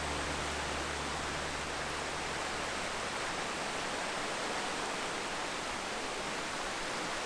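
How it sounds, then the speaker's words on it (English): Water cascades over rocks and debris at a forest waterfall, a steady broadband rush filling the whole stretch without pause or voices, even and continuous. "And the sound of the water cascading over the rocks and the debris."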